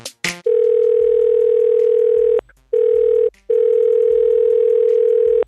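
Steady telephone dial tone, loud and continuous, broken by two short gaps as a call is placed, with a brief click at the start.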